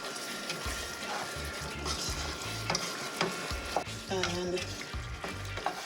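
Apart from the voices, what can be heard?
stirring parsley in a frying pan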